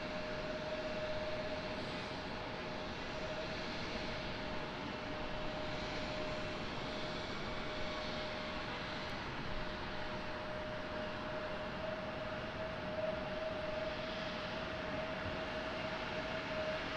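Aircraft engine noise at Raleigh-Durham International Airport, a broad steady roar holding at constant loudness throughout, heard from a distance with no voices.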